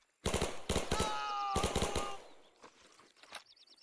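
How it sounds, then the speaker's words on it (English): Thompson submachine gun fire in the Men of War II video game, aimed at a machine-gun position in Normandy, 1944: rapid close bursts of automatic shots with a whistling tone over them, then fading to quieter distant battle noise. "Thompson unloading on that MG position"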